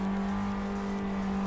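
A Chevrolet Omega drift car fitted with a Fiat engine, recorded up close, holds a loud, steady rev with a strong buzzing engine tone throughout.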